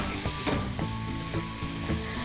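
Vegetables including capsicum sizzle and fry in a pan for tricolour pulao, a steady bright crackle with occasional stirring scrapes, close and continuous throughout.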